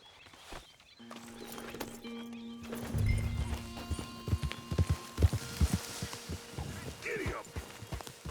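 A horse in the Red Dead Redemption 2 video game whinnies at the start, then sets off with quickening clip-clop hoofbeats that build into a steady gallop, another whinny near the end, over a faint hum.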